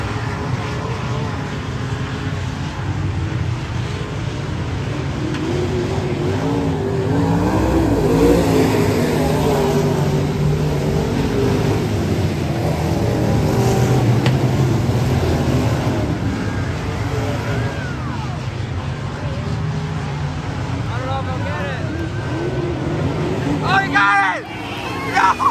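Dirt-track race cars, D2 midgets, UMP mods and super stocks, roaring through the last lap at Montpelier Speedway, a steady distant engine drone with crowd noise rising and falling throughout.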